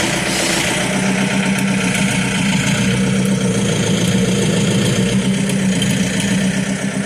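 A tractor engine idles steadily, with a constant low rumble and even throb that stays loud and close throughout.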